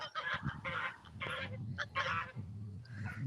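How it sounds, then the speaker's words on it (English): Geese honk loudly and repeatedly, several harsh overlapping calls close by with barely a pause between them. "the geese are really loud"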